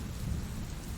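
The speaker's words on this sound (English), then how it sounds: "Outside, the rain grew heavier, tapping the windows like curious fingers" Heavy rain falls steadily against windows on a stormy night, a dense, continuous wash of patter with a low rumbling undertone throughout, no voices.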